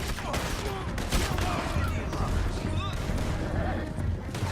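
Gunfire in the video game Red Dead Redemption 2: a dense, continuous volley of shots and crashes during a shootout, with shouting voices mixed in.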